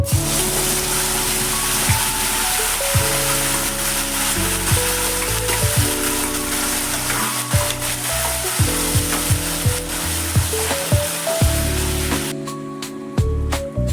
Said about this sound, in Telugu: జీలకర్ర ఫ్రై అయ్యాక ఇందాక పట్టి పెట్టుకున్న ఆనియన్ పేస్ట్ వేయాలి.